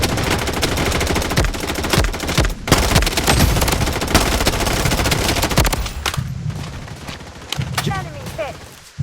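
Video game gunfire in BloodStrike: dense, loud automatic bursts and rapid shots crowd the first six seconds, then thin out as game voice lines play.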